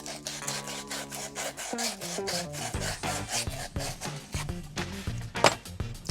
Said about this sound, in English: with a special type of abrasive cloth. It's almost like sandpaper, but backed on cloth, just to get all the oxidation and the crud off.